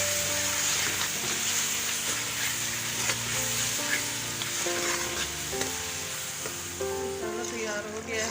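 Spices sizzling and crackling in hot oil in a pan while cooking dal mash, a steady continuous fry with light stirring scrapes, close and fairly loud, with music playing underneath.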